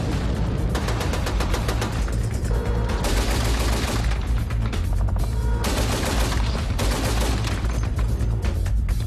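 A 7.62mm air-cooled, gas-operated machine gun mounted in line with the main gun of an Abrams tank fires long, loud, continuous bursts that fill the whole stretch.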